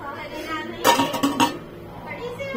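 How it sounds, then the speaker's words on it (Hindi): A lid goes onto a metal pressure cooker pot where macaroni is set to boil, giving a brief burst of metallic clinks and clatter amid quiet kitchen background. "इसको ऐसे ढक दो क्योंकि ये थोड़ी सी हल्की सी आंच में उबल जावे"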